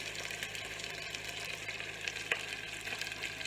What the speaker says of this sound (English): Okay, my meat's nice and seared now.